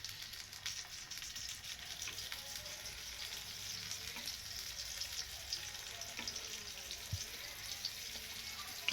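Bangda (mackerel) coated in jowar flour fries in oil on a pan, giving a continuous, even, close sizzle and crackle with small pops scattered throughout and no voices.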